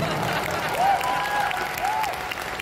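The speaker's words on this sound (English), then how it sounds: "Round of applause for the lighting department." Audience applause for the lighting department at the FACTS 2023 convention: a steady, moderately loud wash of clapping from a crowd, with a couple of brief whistle-like tones rising over it.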